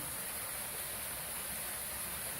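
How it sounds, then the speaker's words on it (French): An indoor decorative water cascade in a wedding hall runs as a continuous, even rush of falling water, with a steady hiss and no pauses. "Cascade d'eau pour prendre des photos à l'intérieur."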